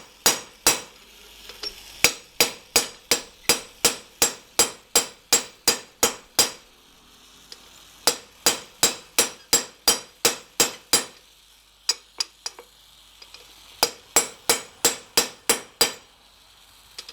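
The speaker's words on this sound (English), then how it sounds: "Get it most of the way there, then use the rivet header." Rivets for a hearth crane peened with a hammer and rivet header, bursts of sharp ringing metal strikes at a steady quick rhythm, about a dozen blows per run, with short pauses between runs, close and loud, no speech.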